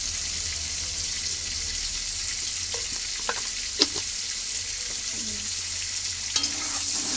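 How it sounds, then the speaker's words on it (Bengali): Potatoes seasoned with salt and turmeric fry in hot oil, giving a steady close sizzle broken by occasional clinks and scrapes of a utensil stirring the pan. "হলুদ দেওয়ার পরে আলুটাকে ভালোভাবে ভাজা হবে।"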